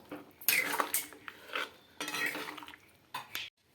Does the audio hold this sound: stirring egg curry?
yes